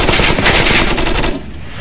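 Rapid automatic gunfire from the VR shooter Onward VR rattles loud and close in a dense burst, then cuts off, leaving quieter ambience.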